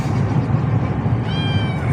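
A cat gives a single drawn-out meow partway through, its tonal cry rising over steady low background noise.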